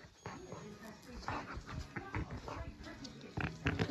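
A pug whimpers and grunts in snorting bursts while playing tug of war, close and continuous over a few seconds, with a person talking excitedly throughout.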